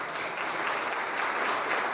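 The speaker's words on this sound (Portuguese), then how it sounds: "Obrigado, uma salva de palmas" Applause at a retail and franchising business conference fills the whole moment, a dense, steady wash of many hands clapping at even loudness with no voices over it.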